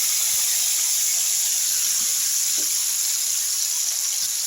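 Ground spice paste hits hot oil seasoned with nigella seeds, giving a loud, steady sizzling hiss that runs unbroken throughout.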